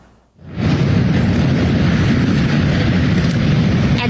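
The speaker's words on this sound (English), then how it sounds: "You can hear those engines revving." Police motorcycle engines of a motor brigade rev together at a police officer's funeral procession, starting abruptly into a loud, steady, dense roar that stays close and continuous.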